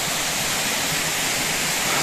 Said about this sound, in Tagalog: mayroon pong talon dyan